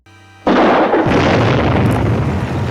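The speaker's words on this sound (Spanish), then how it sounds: "abre fuego contra los 3 criminales, arrojándoles también cargas de dinamita para desorientarlos" A dynamite charge goes off in a Western film: a short quiet lead-in, then a sudden loud blast that rolls into a long, dense, sustained rumble.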